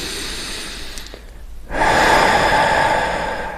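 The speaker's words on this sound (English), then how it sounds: "I want you to pay attention on the back and at the front of when I breathe" Deep, controlled breathing during a core activation exercise, close and clear: a quiet soft intake, a brief pause, then a louder sustained rushing breath that fills the rest of the moment.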